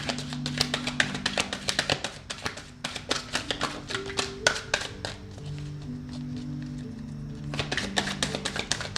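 Tarot cards being shuffled by hand, a run of quick crisp taps and riffling slaps in irregular bursts, close and fairly loud, with a steady tonal hum underneath and a brief lull in the middle.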